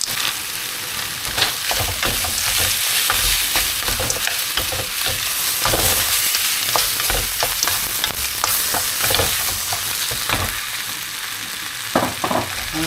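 Peas with oyster sauce stir-frying in a hot wok for special fried rice, a loud continuous sizzle broken by scraping, clattering stirs throughout.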